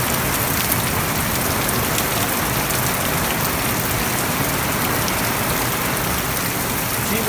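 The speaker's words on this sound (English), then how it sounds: "It just rained all night long" Heavy rain pours steadily at a campsite, a dense unbroken hiss of drops drumming on surfaces, loud and close with no voices.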